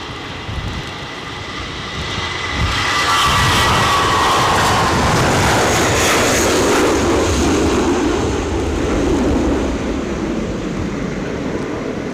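An aircraft at Edinburgh Airport in Storm Floris winds gusting up to 60 mph, its engine roar swelling loud and broad, then holding steady as it passes, mixed with wind rumble.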